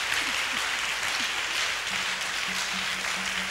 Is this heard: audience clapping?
yes